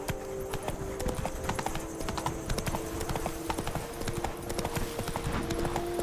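Roach the horse in The Witcher 3 gallops with rapid, continuous hoof clatter, loud and close, over steady background game music.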